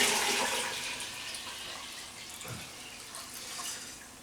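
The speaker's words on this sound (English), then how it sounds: "first of all we put the water in" Water pours into a container while making doenjang, a steady close splashing hiss that is loudest at the start and slowly eases off, with a small clunk midway.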